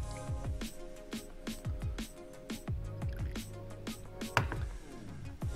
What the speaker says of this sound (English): I'm definitely not going to make you watch this drip and filter through.